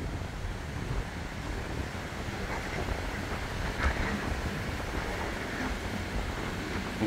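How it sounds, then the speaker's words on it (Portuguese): Steady wash of sea surf and gusting wind at Balneário Perequê beach, a continuous broadband roar with wind buffeting the microphone and no voices. "Olha o mar aí, ó."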